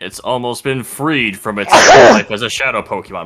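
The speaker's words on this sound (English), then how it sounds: "Sorry that I just sneezed into the mic." A single loud sneeze bursts close into a microphone during a stream of Pokemon XD: Gale of Darkness, with speech just before and after it.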